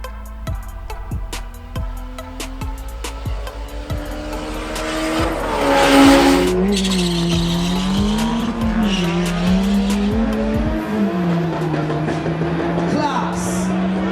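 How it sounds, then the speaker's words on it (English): A BMW revving at a drag racing event, engine roaring and climbing in pitch after a run of sharp pops, then holding a wavering high rev, loud under crowd noise and a voice on the PA. "listen to the BMW"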